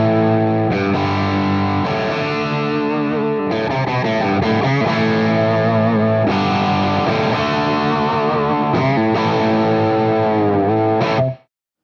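An Ibanez Thermion electric guitar through a high-gain amp channel on its bridge pickup plays loud, saturated distorted chords and riffs continuously, then cuts off abruptly at the end, with no talking.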